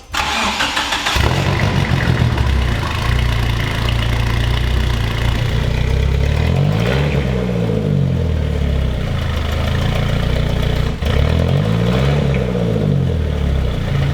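A mid-engine Mitsubishi Eclipse turbo engine cranks and catches, then idles steadily with a low hum, rising twice into brief revs that swell and settle back down.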